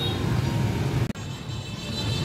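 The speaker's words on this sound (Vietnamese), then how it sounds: "Đây có chiếc xe hơi đây." A car moves along a busy street outside a crowded café in Sa Đéc on a fireworks night, a steady low engine and road rumble with a brief dropout partway, amid general street noise.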